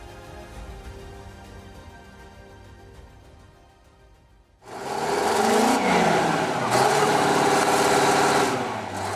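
A John Deere 9RX 830 tractor, a massive 18-liter machine, runs at a steady drone, then surges abruptly to a much louder, broad roar that holds at full power.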